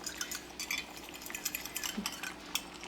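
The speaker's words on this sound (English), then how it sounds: "stir it in really good so you don't have any lumps at all" Arrowroot powder slurry whisked with a spoon or fork in a small dish: quick light clinks and scrapes of metal on the container in an irregular rhythm, close and fairly soft, with no voices.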